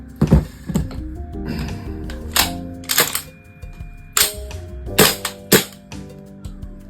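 A VFC custom 416C airsoft rifle fires close by as a series of sharp, separate snapping shots spaced irregularly over several seconds until the magazine runs empty and the bolt locks.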